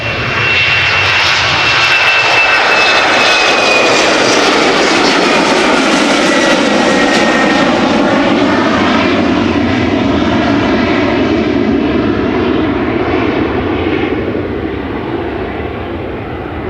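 An Embraer 190 jet departs Amsterdam Schiphol Airport with a loud, close engine roar that sweeps downward in pitch and then holds as a steady, sustained rumble.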